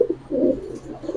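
A male Giribaj pigeon cooing close by, a few soft low throaty coos in quick succession with no voices.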